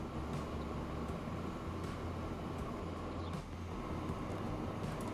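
A big freight train in the railway game Transport Fever 2 rumbles steadily with a constant low drone, the noise even and continuous throughout with no talking.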